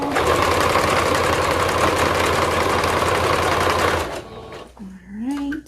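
A sewing machine top-stitches over a seam on slim harem pants, a loud, rapid, steady mechanical chatter that runs for about four seconds before stopping, followed by a short stretch of a voice.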